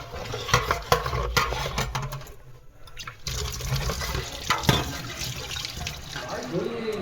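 Tap water running and splashing in a sink as a fallen item is rinsed, an uneven wet spatter with brief clinks and a short lull midway.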